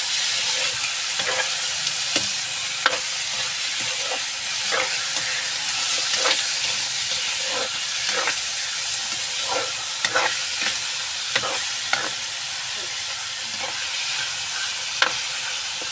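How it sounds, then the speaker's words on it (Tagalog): Chicken sizzles and fries steadily in a hot pan over a strong wood fire, with repeated scraping and clinking of a utensil stirring throughout. "Igisa muna natin yung manok bago natin lagyan ng tuyo"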